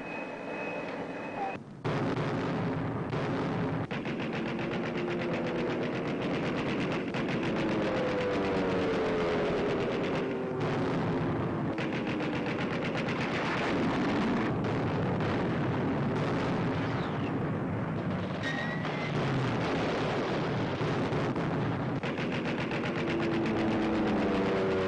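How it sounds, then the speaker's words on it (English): American naval guns open fire in a World War II sunrise attack on the South Pacific, with repeated heavy blasts over a continuous roaring din as someone speaks. "Opening guns of the American offensive in the South Pacific."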